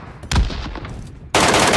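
Gunfire rings out in the PUBG Mobile Metro Escape mode: a burst of rapid shots, a lull with scattered echoing reports, then a loud sustained volley of automatic fire.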